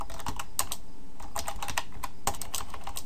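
Rapid typing on a computer keyboard while writing JavaScript code, with clusters of sharp key clicks in an uneven rhythm that run steadily and close up, with no voice over them.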